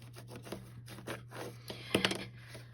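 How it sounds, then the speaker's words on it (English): Paper flaps being burnished down onto a box, heard as soft, close rubbing and scraping strokes in short repeated bursts against a faint steady hum, with a sharper scrape near the end. "Burnish them down."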